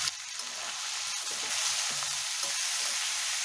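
Sliced capsicum fries with salt in a pan for chicken chow mein, giving a continuous close hiss of sizzling oil with a few faint low knocks underneath.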